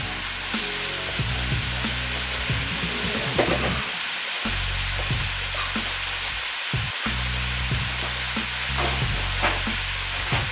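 Onions and bell pepper sizzle loudly as they fry with browned ground meat in a pan, with a steady crackling hiss broken by brief stirring scrapes and clatters.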